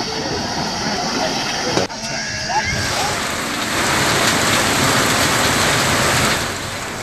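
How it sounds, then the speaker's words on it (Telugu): Heavy rain pours in Kurnool district, a dense continuous hiss of falling water that swells louder midway and stays steady, close and unbroken. "ఉరవకొండ, వెడుపనకల్లు, వజ్రకరూరు మండలాల్లో వర్షం భారీగా పడుతోంది."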